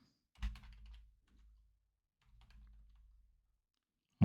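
Keys clatter on a computer keyboard in two short bursts of typing, close and fairly quiet, with a pause between and no talk.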